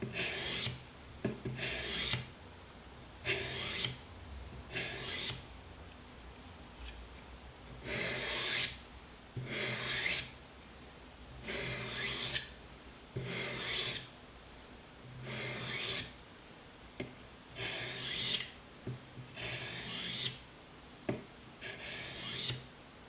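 A karambit knife blade being sharpened by hand on sandpaper with steady back-and-forth strokes, each rasping pass loud and close, repeating in an even rhythm of paired strokes with short pauses between.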